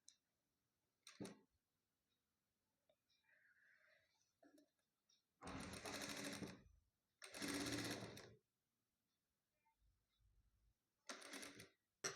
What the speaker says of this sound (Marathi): त्या साईडनी आपल्याला शिवून घ्यायचे पूर्ण राऊंडनी